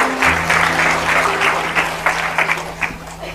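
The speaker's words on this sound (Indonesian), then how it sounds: "Tepuk tangan dulu saudara." Seminar audience applauding together, a steady dense clatter of clapping that swells then thins out, with a low hum underneath and no talk.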